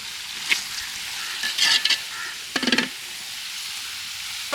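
Cabbage sautéing in a pan for a village-style prawn masala pasta, quiet sizzling broken by a few short bursts of stirring and scraping.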